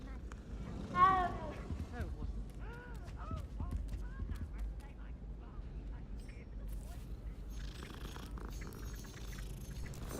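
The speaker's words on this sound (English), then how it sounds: "Great to have kitties around you." Cats meow in the Hogwarts Legacy video game: one clear, close meow near the start, followed by softer game ambience with a voice talking over it.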